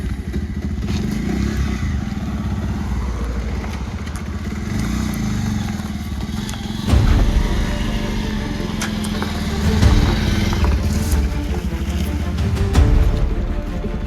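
A motorcycle engine runs steadily and loudly close by, with a rough low idle and a few brief surges of revving, alone without talk.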